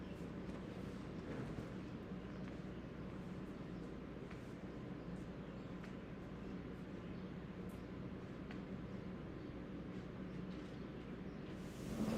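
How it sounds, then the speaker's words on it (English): A small electric fan runs in a quiet indoor room, giving a faint, steady broadband whir with no talking over it. "There's still a little fan keeping the air moving, so that's what you hear in the background."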